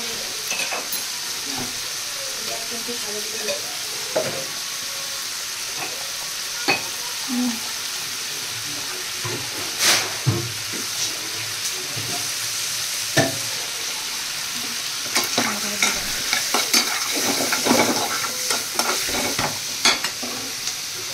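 Leafy greens fry in a home kitchen pan with a constant soft sizzle, broken by repeated scraping and clattering stirs that grow busier toward the end, with no talking.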